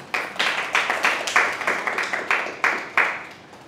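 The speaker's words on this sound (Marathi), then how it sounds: "हे तर सरांसाठी तुम्ही टाळ्या वाजवायला पाहिजे एकदा" A small audience claps for a speaker at a talk, a sparse series of about a dozen sharp, evenly spaced claps close to the microphone, with no speech over them.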